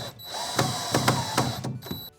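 A power drill drives fasteners to secure a Delta Neo Angle corner shower base to the walls, several short whirring bursts over a steady background hum, close and fairly loud.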